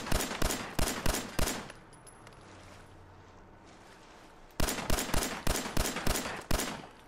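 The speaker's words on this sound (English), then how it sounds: "I feel like just shooting this thing." Rapid bursts of gunfire in Fallout 4 VR, sharp repeated shots in two volleys separated by a quiet stretch, loud and close.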